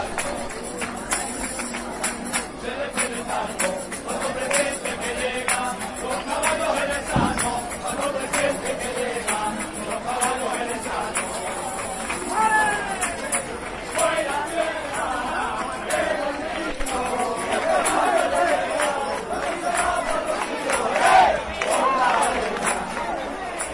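A crowd of Jerez pilgrims arrives before the Virgin of El Rocío, a dense mass of voices, singing and clapping in a lively, continuous hubbub with occasional louder bursts.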